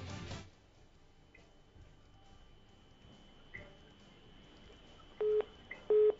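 Phone line tones sound as a call to a reporter in a Hindi news broadcast disconnects: two short electronic beeps near the end, each following a brief click, over faint line hiss.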